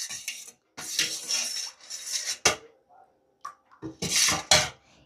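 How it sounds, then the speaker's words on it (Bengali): Hair oils being stirred and mixed in a container for a homemade ayurvedic hair treatment, with bursts of clinking and scraping of a utensil against the vessel separated by short pauses. "এবার এই দুটো তেল দিয়েই এই তেলটাকে খুব ভালো করে মিশিয়ে নেব।"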